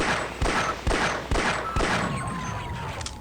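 Rapid gunfire aimed at rooftop turrets in the video game Half-Life: four sharp, loud shots in a steady rhythm, followed by a softer rattle of fire and trailing echoes, with no talking.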